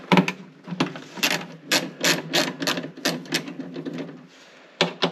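A ratchet wrench removes the bolts from the heater core cover of a 1960 Edsel Ranger, giving quick repeated clicking bursts that stop and restart several times, close and clear with no talking.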